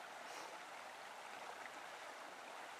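A river stream flows beneath a small wooden bridge in a moonlit forest, a soft, steady rush of water that stays faint and even without any break.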